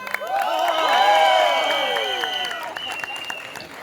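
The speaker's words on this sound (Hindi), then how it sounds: "तालियां बजाइए दोस्तों दिनेश सर के लिए." An audience claps and cheers as Dinesh Vijan comes on stage, the applause swelling under whoops and loud tonal cries, then easing off.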